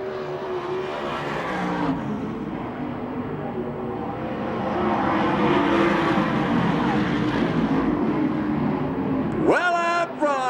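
USAC/CRA sprint cars race at Manzanita Speedway during a heat race, a pack of roaring engines droning steadily and swelling louder midway, with a commentator talking over them and a sharp rising rev near the end.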